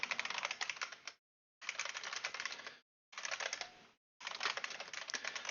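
Rapid clatter of fingers typing on a computer keyboard, in four dense bursts of key clicks separated by short silent pauses, close and clear.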